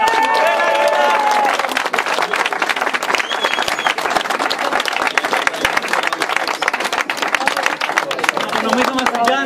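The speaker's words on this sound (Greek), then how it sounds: "Το δυνατό χειροκρότημα είναι για την τρίτη, την Ελληνίδα, την Ιρένα τη Μαλιμόρσκα" Loud, dense crowd applause with cheering at the finish of the Loutraki Vertical Kilometer race, honoring the third-place Greek runner, runs the whole stretch beneath an excited announcer's voice.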